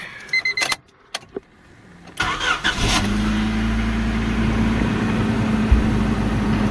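A 1996-2000 Honda Civic with an idle surge cold-starts after a few clicks and thumps, cranks briefly, then settles into a loud, steady idle.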